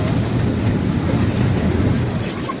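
A miniature amusement park train rumbles past close by, a steady low rolling noise with faint wheel clatter throughout.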